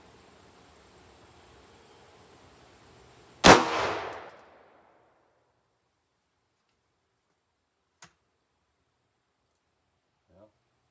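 A single sharp gunshot from an 8.6 Blackout rifle firing a Barnes 225gr TTSX bullet into a ballistic gel block, a loud crack with a brief decaying tail, followed by quiet with two faint distant clicks.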